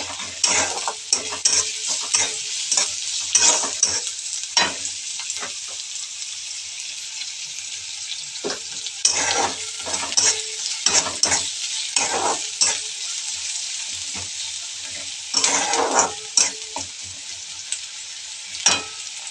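Onion frying until pink in a pan, a bright, hissing sizzle punctuated by frequent sharp scrapes and clinks of a utensil, in irregular bursts throughout.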